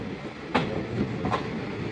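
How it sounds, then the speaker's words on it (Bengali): A passenger train pulls into a station platform in northeast India, a steady rumble of rolling wheels with a couple of sharp metallic clacks, close and moderately loud. "ওই ট্রেনটা ঢুকলো।"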